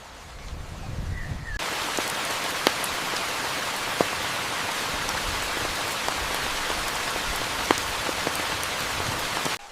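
Heavy rain pours steadily during a storm in the Amazon jungle, a dense continuous hiss of drops on leaves and surfaces with a few sharper drips, starting abruptly after a quiet opening and holding loud to the end.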